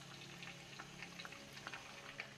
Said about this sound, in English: I'm going to continue frying the remaining quesadillas